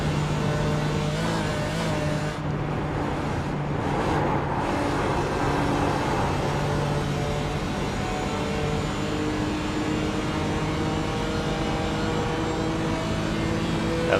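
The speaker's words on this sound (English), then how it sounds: "that AMG's definitely got some grunt" A Mercedes AMG race car in iRacing drives the Nürburgring during an endurance race, its engine droning loud and continuous with shifting revs and a sustained high-pitched whine, and no talk over it.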